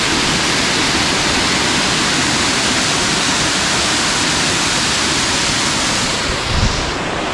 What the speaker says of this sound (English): there's a lot of water running down there